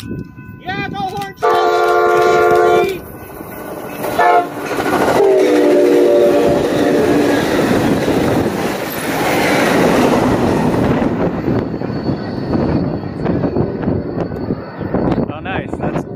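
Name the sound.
Amtrak/BNSF train horn passing a crossing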